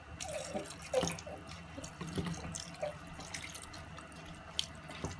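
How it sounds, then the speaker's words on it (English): Tap water runs from a faucet into a mixing bowl of meat pie filling, a quiet close trickle and splash with a few brief drips and clinks, steady for a few seconds without talking. "And I'm going to add water to it."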